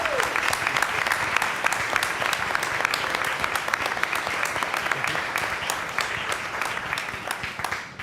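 An audience at a school board meeting claps for robotics team mentors and alumni, a dense, steady round of applause lasting several seconds before tapering off at the end.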